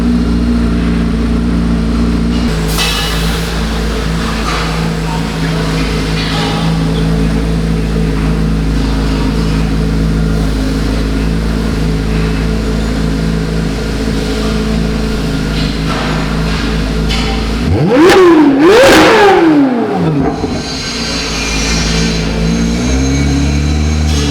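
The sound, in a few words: Chevrolet Corvette C8 Z06 flat-plane V8 revving with AWE exhaust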